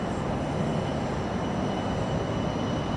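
Xcrafts ERJ regional jet taxiing in X-Plane 12, a steady broadband engine roar and rumble held at constant level throughout, with no voices.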